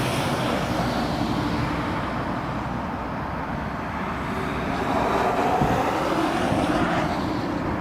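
A US Air Force aircraft departs Prestwick Airport, heard as a steady, distant broadband engine roar that swells slightly toward the end, with no voices.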